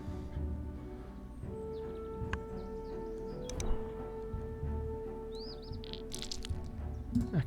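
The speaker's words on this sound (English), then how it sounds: "Let's take the white-headed duck." Bird calls from the Wingspan board game app, apparently the white-headed duck, come as short chirps and rising high tweets over a steady low background tone and faint soft thumps, with no voices.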